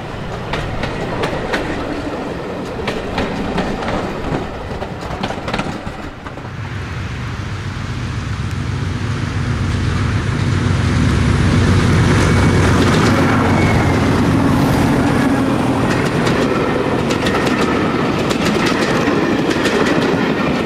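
Class 50 diesel 50431 passes, followed by Class 37 diesels 37190 and 37308 double heading, on a heritage railway: a loud, close engine roar building into sustained rumbling with rhythmic clickety-clack of wheels over rail joints.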